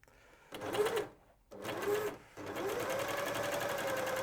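A sewing machine stitches through two layers of fleece, running in two short bursts with brief pauses before settling into a steady, continuous whirring hum close by, without talk.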